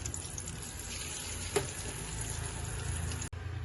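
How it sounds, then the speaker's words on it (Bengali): Eggs frying in oil in a pan for a Bengali egg posto dish, giving a steady, close hiss of sizzling with one brief sharp tick midway and a short break near the end. "ডিমগুলোকে ভালো করে একটু আমরা ফ্রাই করে নেব।"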